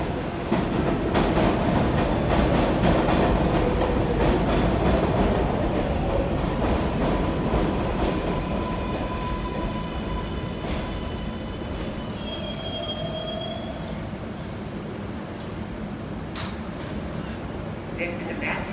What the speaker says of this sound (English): This is a Manhattan Fast 7 local train.